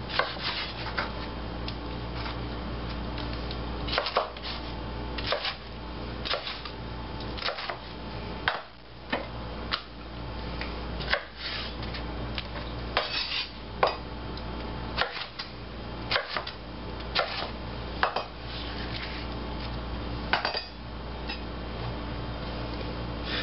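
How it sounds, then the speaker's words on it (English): A knife chopping green chilies into meaty chunks on a cutting board for green chili soup, steady close thuds and slicing strokes repeating throughout at a moderate level, with no talking. "the pieces I'm cutting are about 1/2 to 3/4 of an inch wide"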